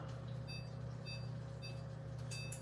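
A kitchen oven timer gives short, bright beeps repeated at regular intervals over a constant droning hum from the oven fan.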